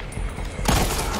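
Gunfire in the zombie shooter Back 4 Blood breaks out as a loud, dense burst of rapid shots and booms, starting partway through and continuing to the end.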